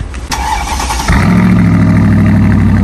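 A Mercedes G55 Brabus cranks briefly and then fires into a loud, deep, steady idle that holds close and strong without any talking.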